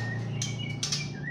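A caged songbird, a Zayan ring-banded bird offered for sale, gives short bright chirps and twittering phrases, close and fairly clear over a low steady background hum.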